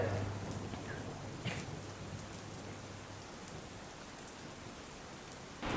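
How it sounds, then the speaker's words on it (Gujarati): Heavy monsoon rain in Gujarat hisses steadily and densely throughout, with a low rumble early on and a couple of brief louder patters; no voices. "છેલ્લા દોઢ દિવસથી વરસાદ ચાલુ છે"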